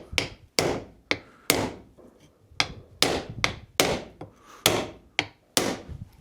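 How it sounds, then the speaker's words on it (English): A hammer taps a metal part on an MEV Exocet car build in a steady series of about a dozen sharp, ringing strikes, each decaying quickly, close by with no talking. "I'm just going to get an ordinary hammer."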